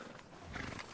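Horse in Red Dead Redemption 2, a single close snort or whinny with a few hoof clops on a town street, brief and moderately loud against low game ambience, no talking.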